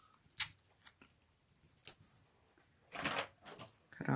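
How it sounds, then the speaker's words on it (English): Scissors trim excess paper from a handmade card, a few quiet isolated snips followed by a longer crisp cutting run, close up with no talking. "Cut off the excess."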